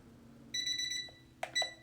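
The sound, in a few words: potty training timer alarm going off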